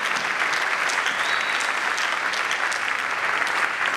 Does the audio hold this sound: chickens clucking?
no